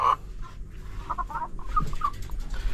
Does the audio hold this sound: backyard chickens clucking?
yes